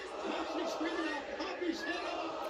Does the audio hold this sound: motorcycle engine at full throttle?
no